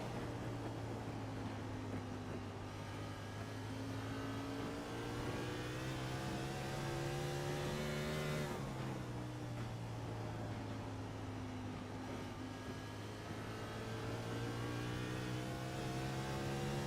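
Onboard engine of the number 60 race car in a racing video game, a steady loud drone holding high revs, dipping briefly mid-run as it shifts and then climbing again, with no talk.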